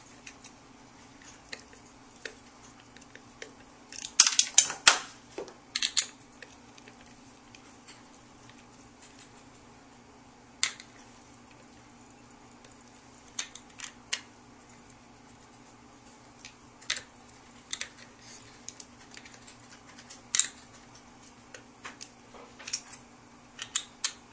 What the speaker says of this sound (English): what you do next is remove the 4 screws that hold the plate in place